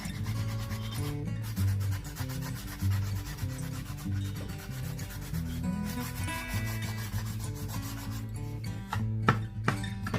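Painted furniture being lightly sanded to distress it: repeated close back-and-forth rubbing strokes in a steady rhythm, with no talking.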